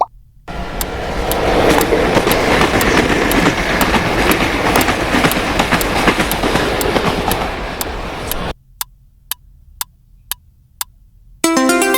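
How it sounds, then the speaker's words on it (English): A train rolls past at a distance with a steady, loud rumble and rhythmic clicking for about eight seconds, then cuts to near silence broken by a few sharp isolated clicks. "A distant train creates deep rumbles just like thunder."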